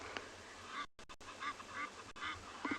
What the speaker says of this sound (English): That's the Egyptian geese. Yes, they're very noisy.